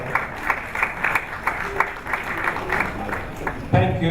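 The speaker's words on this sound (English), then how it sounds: "a round of applause for them" Audience clapping for arriving guests, Colonel and Mrs. Rotimi Vaughn, at a Nigerian Institute of International Affairs event, a steady patter of many hands with light crowd murmur and a louder burst near the end.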